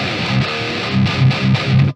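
Heavily distorted metal guitar played through the Revolt DSP Evo amp simulator, loud and chewy, with chugging palm-muted riffs in a steady rhythm and no talking.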